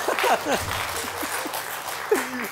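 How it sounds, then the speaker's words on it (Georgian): A studio audience on a Georgian comedy game show bursts into brief applause that lasts a couple of seconds, mixed with chuckles and voices close by. "აპლოდისმენტები"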